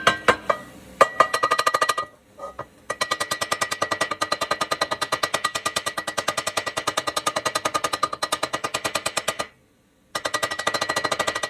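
A hammer strikes a fresh cast iron weld in a rapid, steady stream of loud metallic blows, pausing briefly near the start and again toward the end before resuming.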